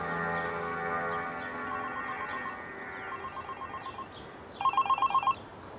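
A telephone rings in a Hindi-dubbed South Indian action movie scene, a bright repeating electronic ring in short pulses near the end, over a soft background music bed with no talking.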